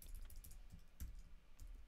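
Quick, light keystrokes on a computer keyboard, a short burst of close clicking taps in an uneven rhythm, quiet and with no voices.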